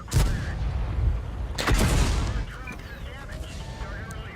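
A tank gun fires during a World of Tanks match, giving sharp booming blasts around the start and again mid-clip that trail into a rumbling battle ambience.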